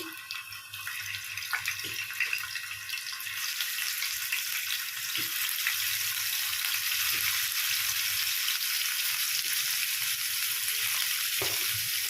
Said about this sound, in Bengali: কড়াইয়ের মধ্যে আমি অল্প রিফাইন অয়েল দিয়েছি এবারে পনিরের পিসগুলো ভেজে নিচ্ছি